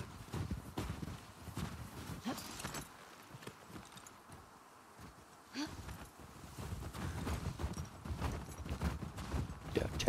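Horse hooves clip-clop at a steady walking pace while riding in the video game The Last of Us Part II, moderately quiet, with faint wind and occasional brief pauses in the rhythm.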